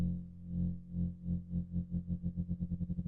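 A sustained synthesizer note pulses in volume via mod wheel modulation, the wobble growing faster and faster over a few seconds.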